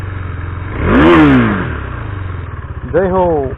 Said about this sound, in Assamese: এতিয়া মই বাইকটো ষ্টাৰ্ট দিওঁ